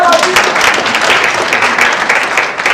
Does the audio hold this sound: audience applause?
yes